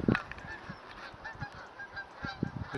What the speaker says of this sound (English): Canada geese flying over